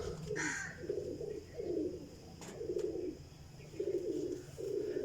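A golden teddy pigeon coos in a series of short throaty bursts at a steady rhythm, moderately close amid faint background noise and a brief chirp from another bird, with no talking.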